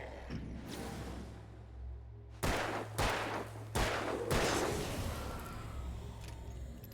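Gunshots ring out in the video game Alan Wake, several sharp loud reports in an irregular sequence, some close together, over a low ambient drone.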